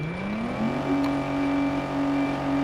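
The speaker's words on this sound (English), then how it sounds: "It literally sounds like a Grand Theft Auto car being revved." A sports car engine in the Gear.Club Unlimited 2 racing game revs steadily with a rising then sustained whining tone, loud and continuous with no limiter cut.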